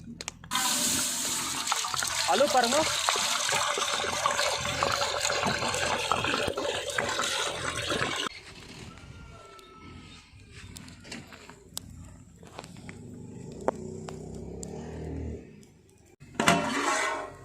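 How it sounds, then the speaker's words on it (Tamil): Water pours steadily onto rice in a pot while soya dum biryani is being made, a loud continuous gush for about eight seconds before it eases into quieter trickling and handling sounds, with a short voice heard in between. "தண்ணி ஊற்றுப்பா."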